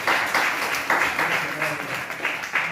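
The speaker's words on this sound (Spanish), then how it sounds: "Denle aplauso al Señor, hermano." Church congregation applauding together in a lively clapping burst that runs steadily through the whole moment, fairly close and full, with voices mixed in.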